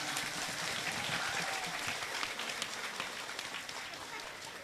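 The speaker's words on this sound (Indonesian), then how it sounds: "kasih tepuk tangan." Broad, continuous clapping from a crowd at an evening Islamic sermon gathering, dense and somewhat distant, gradually easing off toward the end.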